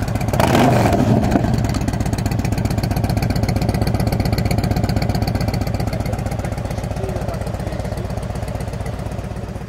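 Yamaha XV1900 Rider motorcycle engine revving up then settling into a fast, even pulsing throb, loud and close throughout, with no voices over it.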